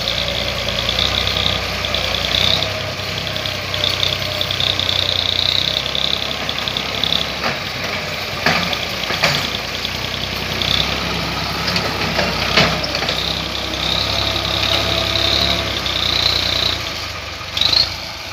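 A tractor with a rotavator ploughing hard, dry farmland, its engine droning loud and continuous with a steady rumbling idle-like throb and occasional clanks throughout.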